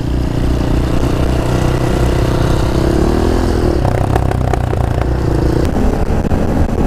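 Scooter engine running with a broken clutch, sputtering and popping in a steady low throb with sharper irregular cracks and clatter toward the end, close and loud throughout.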